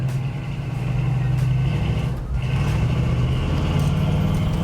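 A 1984 Chevy K-10 truck engine running steadily while driving off-road, a loud continuous low rumble heard from inside the cab.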